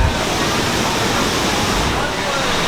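Close and loud, a waterfall at Batu Caves, Malaysia, pours in a steady, dense rushing roar that fills the whole moment without pause.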